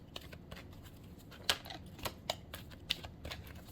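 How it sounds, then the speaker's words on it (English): A thick tarot card deck shuffled by hand, giving a run of quick, irregular clicking and flicking taps, near and quiet, with a few sharper snaps, no voices. "I'm going to shuffle"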